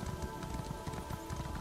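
Horse mount hooves clip-clop in Elder Scrolls Online, a quick, even rhythm of close hoofbeats over a steady game soundscape, with no speech.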